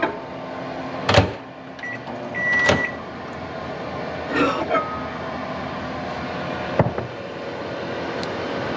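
A microwave oven heats cheese, giving a steady droning hum with a few sharp clunks and clicks spread through the run.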